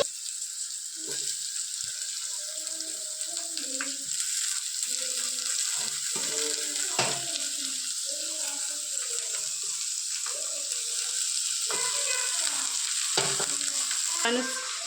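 Chopped radish and radish greens fry in a pan on a gas stove for North Karnataka radish palya, a steady bright sizzle under repeated scraping and clattering from stirring.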